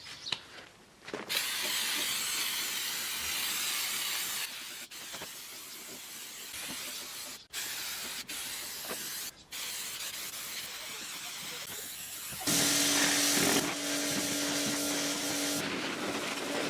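Degreaser sprays in long hissing bursts onto old brush mower parts during a restoration, steady and close with short gaps between passes, then a louder, brighter burst near the end.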